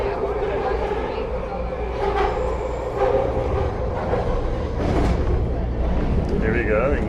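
A SkyTrain Expo Line train rumbling along the elevated tracks in Vancouver, a loud steady roar with rattling and whining heard from aboard, with a voice talking over it.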